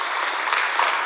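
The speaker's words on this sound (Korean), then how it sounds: "그 박수 한번 쳐주세요." A congregation at a Sunday church gathering gives a short burst of dense, even clapping that fills the whole moment without voices.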